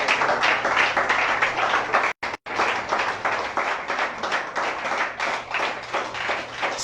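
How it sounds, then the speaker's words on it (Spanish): A church congregation claps together in a dense, steady rhythmic beat that is loud and continuous, cut only by a short break near the middle. "Si va a aplaudir, hágaselo,"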